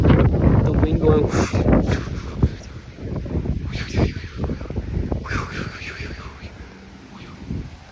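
Gusting wind blows through and brushes together leaves outdoors, a steady rushing roar with buffeting on the microphone, loud and continuous throughout.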